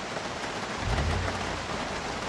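Rain hammers down steadily during a thunderstorm in the zombie survival game Project Zomboid, with a low rumble of thunder swelling midway under the constant downpour.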